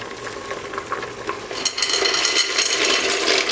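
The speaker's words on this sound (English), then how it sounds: "Pour salt for the boiling water." Salt being poured into a pot of boiling water for pasta in a home kitchen. A soft bubbling hiss swells into a louder, rougher rushing sizzle partway through, close up with no voices.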